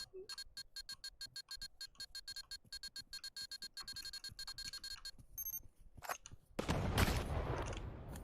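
Gunfire in the VR shooter Pavlov during a competitive match: a long run of rapid, evenly spaced automatic shots, then a few isolated bangs, then a loud burst of noise near the end.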